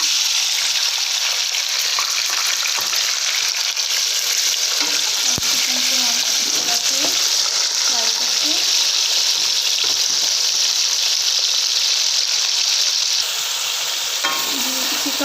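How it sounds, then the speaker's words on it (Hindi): Chicken browning in hot frying masala for chicken pulao, a loud, dense sizzle running steadily throughout with occasional stirring scrapes close up. "चिकन को हम अच्छी तरह जो है वो ब्राउन करते हैं। तकरीबन 5 मिनट तक हम इसको भून लेते हैं।"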